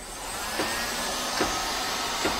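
A hot air gun drying a freshly washed inverter circuit board gives a loud, steady whooshing roar with a few faint clicks, and no one speaks.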